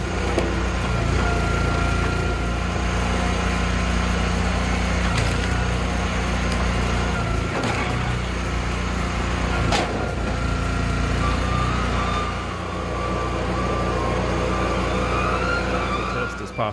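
A hydraulic log splitter with a 26.5-ton ram runs its engine in a steady, droning hum while splitting medium to large hardwood rounds, with occasional knocks and cracks rising above the constant machine noise.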